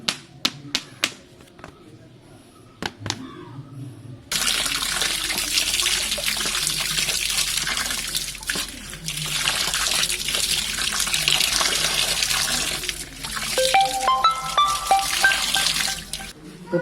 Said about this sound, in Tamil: சும்மா தண்ணியிலே வாஷ் பண்ணோம்னா போதும், க்ளீன் ஆயிரும்.